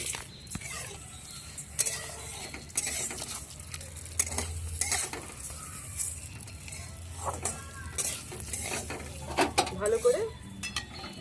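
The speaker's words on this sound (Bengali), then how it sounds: "ভেজে নেব চালটা যত সুন্দর ভাজা হবে তত সুন্দর পোলাও ভালো ঝরঝরে হবে" Gobindobhog rice fries in a pan with cardamom, cinnamon and bay leaf for pulao, while a utensil scrapes and clinks against the metal in steady stirring strokes over a soft sizzle, close by, with no talking.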